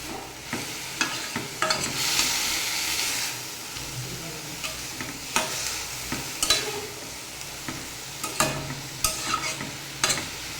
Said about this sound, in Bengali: এবারে ভালোভাবে নেড়ে চেড়ে মিশিয়ে নিয়ে ঢাকা দিয়ে দেবো।